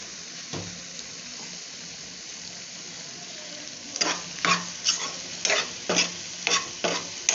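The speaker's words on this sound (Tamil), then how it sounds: "நல்லா நல்லா மிக்ஸ் பண்ணிக்க வேண்டியதா" Curry with chili powder stirred in a pan, a faint sizzle broken by one early knock and then a run of close, rhythmic scraping strokes.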